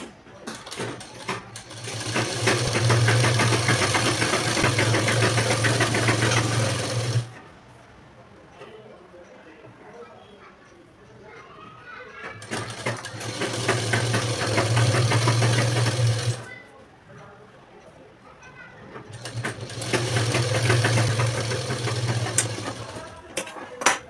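Sewing machine stitching the lining into a blouse runs in three long bursts of steady, close whirring separated by quieter pauses in which faint handling noises can be heard.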